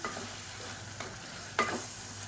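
Green chillies slit in half sizzle in a pan with chicken for a cooker biryani, a steady soft frying hiss with a couple of faint spoon scrapes and a brief clack near the end.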